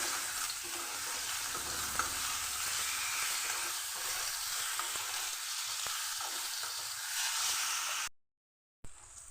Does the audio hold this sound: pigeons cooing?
no